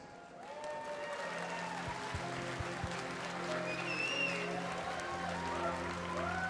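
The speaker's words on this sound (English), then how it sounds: "Please give a round of applause to our panelists." Audience applause fills a BlizzCon hall as a World of Warcraft lore and story Q&A panel opens, steady clapping from a large crowd sustained throughout with scattered cheers on top.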